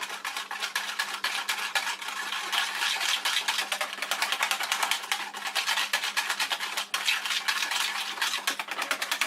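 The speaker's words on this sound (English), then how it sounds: "I'm just going to gently mix this together" A utensil beats pumpkin muffin batter in a bowl, rapid rhythmic scraping and clinking against the sides, close and steady throughout with no talking.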